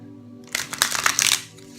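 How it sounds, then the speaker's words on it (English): A deck of tarot cards is shuffled close by, a short burst of rapid riffling and flicking over a soft background hum. "One last shuffle for Aquarius, for the sign of Aquarius."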